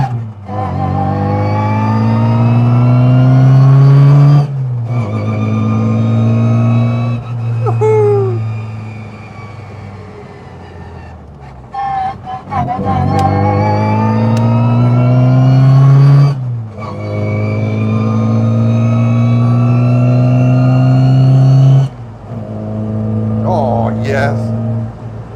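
An MG Midget fitted with a Lenham Le Mans GT body drives on a road, its small engine revving up hard through the gears in repeated rising pulls with brief lifts between shifts, loud and close from inside the car.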